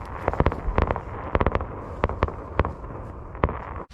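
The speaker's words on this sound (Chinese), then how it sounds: "刚想做饭，突然放起了烟花来了" Fireworks burst outside on a freezing winter night near a parked camper van: a rapid run of sharp cracks and pops, some clustered, loud and fairly close.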